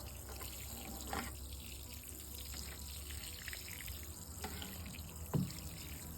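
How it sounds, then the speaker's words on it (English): Water pours steadily from a hose or can into a container tub of plants, a soft continuous trickle and splash with a few faint knocks, fairly quiet and without talk. "I'm going to water this pretty deeply."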